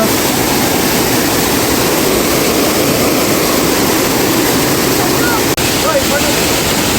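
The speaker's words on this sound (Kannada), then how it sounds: "ಹೆಂಗ್ ಬರ್ತಾ ಇದೆ ಫೋರ್ಸು ನೀರು" Forceful water thunders down Elneeru Falls near Horanadu, a loud, unbroken roar filling the whole clip at close range.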